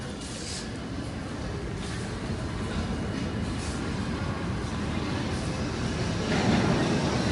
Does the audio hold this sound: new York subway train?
yes